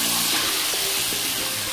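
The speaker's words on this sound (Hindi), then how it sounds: "इसमें 1/2 कप पानी भी डाल देते हैं" Half a cup of water goes into a hot chicken karahi with tomatoes, giving a loud, close hiss and bubbling sizzle that holds steady throughout.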